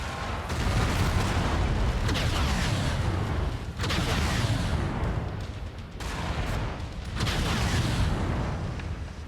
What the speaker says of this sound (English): Whoops, missed with the whole salvo.